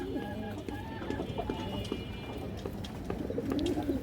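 Soft, repeated cooing of a female pigeon close by, low throaty calls rising and falling over faint background rustling.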